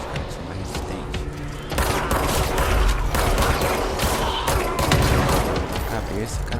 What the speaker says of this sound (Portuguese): Começar o tiroteio de novo.